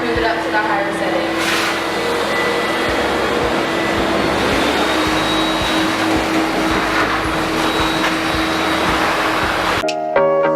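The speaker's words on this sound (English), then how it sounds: "Now that he's used to the dryer, we're going to move it up to the higher setting." A K9000 dog wash blow dryer runs on its higher setting, a loud steady whirring blast of air that holds throughout and cuts off abruptly near the end.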